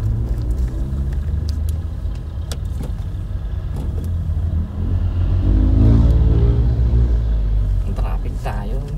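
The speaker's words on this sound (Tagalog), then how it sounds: "Nag-kick in na yung turbo na." A Mitsubishi Montero Sport climbs uphill in traffic as its turbo kicks in, giving a loud steady low engine rumble from inside the cabin that swells into a stronger acceleration halfway through, with occasional light rattles.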